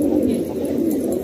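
Fancy pigeons coo in a loft, one low rolling coo rising and falling close by with no one talking.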